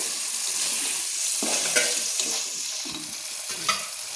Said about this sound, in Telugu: మనం ఆనియన్స్ కట్ చేసి పెట్టుకున్నాం కదండి, అవి బాగా ఇట్లా కొంచెం ఫ్రై చేసుకోవాలి